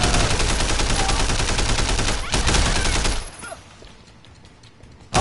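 Dense gunfire rings out in the Sleeping Dogs video game, a loud continuous burst of overlapping shots for about three seconds before cutting to a quieter background.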